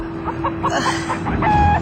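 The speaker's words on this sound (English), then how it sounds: "We had to go out with a live chicken, barter that for something in exchange" A live chicken clucks in a few short rhythmic bursts, fairly close, with a steady background hum and no talking.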